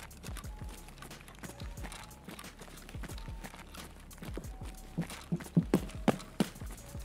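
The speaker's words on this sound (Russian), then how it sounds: "Бегает надо мной в комнате." Running footsteps of a player in the room overhead in Escape from Tarkov, a quick steady patter of thuds that is muffled and fairly faint, with a few sharper, louder steps near the end.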